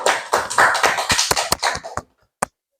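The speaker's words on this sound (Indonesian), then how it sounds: "Tepuk tangan semuanya." A classroom of students clapping their hands together, a fast burst of overlapping claps that thins out into a few scattered slaps and stops, followed by one last lone clap after a short silence.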